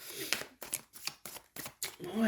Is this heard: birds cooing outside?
no